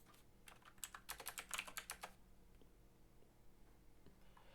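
Rapid keystrokes on a computer keyboard, a quick burst of clicking taps for about two seconds before falling quiet, faint and close.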